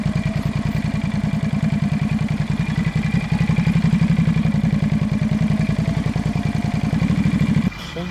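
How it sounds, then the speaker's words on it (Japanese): A Honda motorcycle engine runs steadily and close by with a rapid, even low-pitched pulsing throb for about eight seconds, then drops away suddenly at the very end, out on a city street. "ホンダのバイクやな。"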